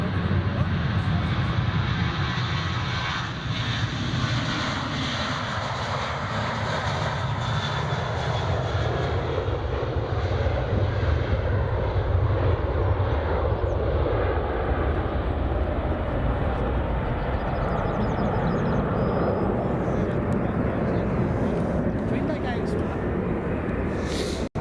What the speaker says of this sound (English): Ryanair is just departing now, runway 24